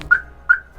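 A car's aftermarket alarm system gives two short, bright electronic chirps about 0.4 seconds apart as the car locks, each note a clear tone trailing off, heard close with no talking.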